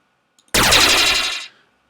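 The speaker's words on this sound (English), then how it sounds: "Some sort of explosion maybe." An explosion effect for a game-over moment in a Unity game, a single loud, sudden blast with a crackling, rattling body that holds for about a second, then fades quickly.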